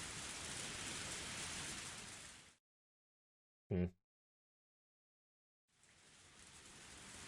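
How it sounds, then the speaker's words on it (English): Steady hissing rain falls in the video game Higurashi: When They Cry, cutting to silence with one brief thump, then fading back in. "I felt the raindrops hit my face, and gazed up at the sky for a while, forgetting all about my hair getting wet."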